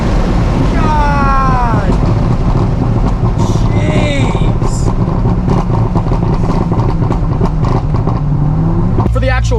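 A 1,200 hp Corvette ZR1 roars loudly under hard third-gear acceleration from inside the cabin, a constant heavy engine drone with rising tones, while a man exclaims over it.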